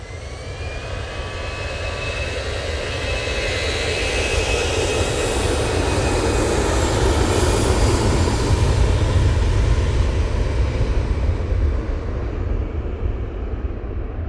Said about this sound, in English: EasyJet A320-200 going off to Tivet